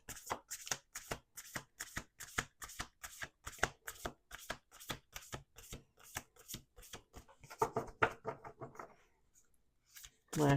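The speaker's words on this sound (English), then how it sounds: "Two more shuffles." A deck of playing cards is shuffled at a table in a run of quick riffle bursts, each a sharp crisp flutter, repeating steadily for several seconds before a short pause and one final riffle; no talk.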